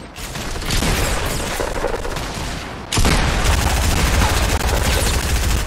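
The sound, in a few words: grenade launcher fire in Fortnite video game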